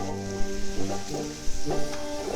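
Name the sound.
frying rice with rock octopus in a restaurant kitchen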